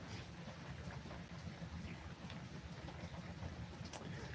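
Steady rain falling outside during a storm, a continuous soft wash of drops at even level with no voices, faint and moderately distant.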